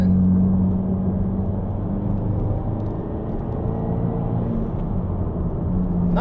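A 2022 Subaru WRX with an ETS axle-back exhaust, running low in the rev range: a loud, deep, grunty rumble that stays fairly steady, dipping slightly in the middle before swelling again, with no voices over it.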